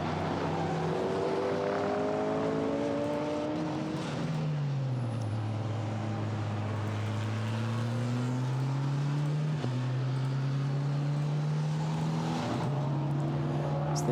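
GT4 race cars at the Misano circuit roar past one after another, engine notes climbing and dropping through gear changes as they come through a right-hander, loud and continuous.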